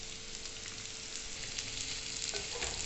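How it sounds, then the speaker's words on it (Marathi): Bitter gourd fries in oil in a pan with a steady, even sizzle that crackles on without a break, close and moderately loud with no voices. "कारलं लालसर होईपर्यंत चांगलं परतायचं."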